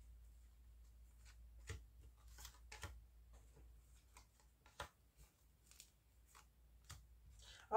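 Tarot cards shuffled and handled on a table give sparse, crisp slaps and flicks at irregular intervals, quiet and close, with no talking.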